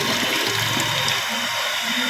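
Water gushes steadily out of a PVC pipe as a loud, continuous splashing rush, close by, with no voices over it.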